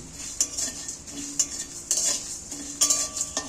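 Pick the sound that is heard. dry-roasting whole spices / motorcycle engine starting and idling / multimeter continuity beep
dry-roasting whole spices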